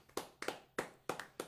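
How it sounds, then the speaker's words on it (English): A few slow, separate hand claps, about five sharp claps spaced irregularly and fairly close, far too sparse to sound like a full applauding crowd. "Everybody, give a round of applause for Josh Sebek."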